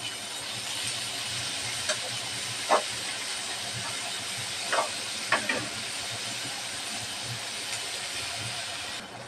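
Onions fry in oil left over from frying fish, a constant close sizzling hiss broken by a few sharp clinks and scrapes of stirring.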